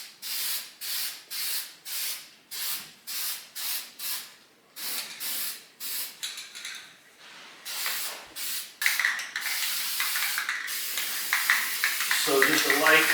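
An aerosol spray can coats an electric baseboard heater in a rapid series of short hissing bursts, followed by longer continuous sprays. A voice talks between the bursts.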